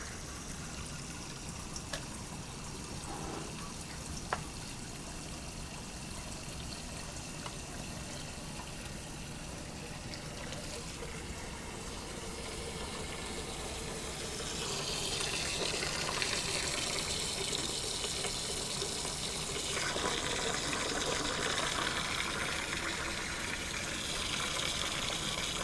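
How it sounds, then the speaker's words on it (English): Tap water runs steadily into a container, a continuous hiss that grows fuller and louder about halfway through as the flow increases, with no voices. "Water's definitely coming out a little orange."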